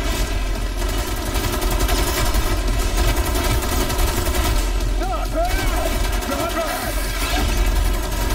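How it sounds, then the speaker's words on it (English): Rapid automatic gunfire in the Cyberpunk 2077 video game, a dense continuous rattle of shots filling the whole stretch over a steady game soundscape, loud and close. "Macam machine gun kayaknya ya."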